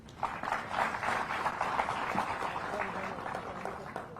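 An audience at a civil services event in Panchkula applauds, a dense, even patter of clapping that carries on steadily throughout.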